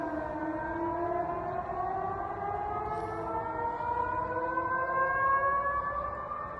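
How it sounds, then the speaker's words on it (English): Air raid sirens wail over the city of Orenburg, a sustained, slowly rising tone with layered harmonics that carries steadily from a distance with no voices. "letting us hear the sound of air raid sirens over the city of Orenburg"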